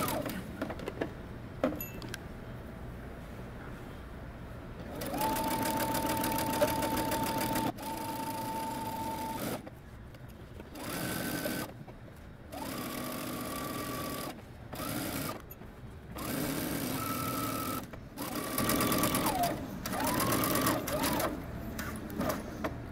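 A sewing machine stitches coat seams in repeated bursts of rapid, even whirring, several runs of a few seconds each separated by pauses, close and fairly quiet.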